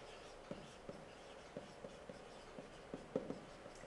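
A pen writes fraction notes up close, with faint, quiet scratching strokes and small irregular taps spaced across a few seconds and no talking.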